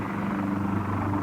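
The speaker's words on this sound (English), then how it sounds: "Oh, there's Senor Nini's helicopter" In a BBC radio drama, a helicopter passes overhead with a steady, dense rotor drone and low thrumming hum, constant and fairly loud throughout with no speech.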